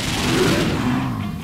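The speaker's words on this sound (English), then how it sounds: "We still got fireworks." Rapid crackling bursts of fireworks going off in the pixel-art zombie game Dead Pixels, a dense, loud volley of pops lasting the whole moment.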